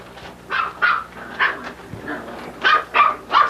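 Puppies bark, yip and growl in rough play, several short sharp bursts coming in quick irregular succession at close range with no talk.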